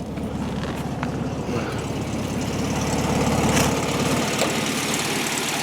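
A 1965 Volkswagen convertible engine idling steadily close by, with a low, even, slightly uneven putter that holds for several seconds and swells a little toward the end, with no talking.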